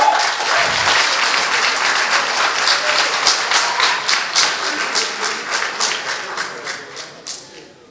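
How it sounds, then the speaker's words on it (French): A studio audience at a French spelling championship broadcast applauds a contestant, with dense, steady clapping from many hands that holds strong and then slowly thins toward the end. "Applaudissez-le"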